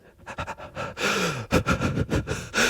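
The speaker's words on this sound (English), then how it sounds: "Just like breathing heavily for like the entire demo." Heavy, ragged breathing from a game character in a horror video game demo: a run of sharp gasps and panting breaths, close and loud, coming in uneven bursts with no talk.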